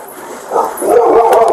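A dog in a house answering a police call gives a sharp, fairly close bark amid the commotion of officers entering, with raised voices and movement around it.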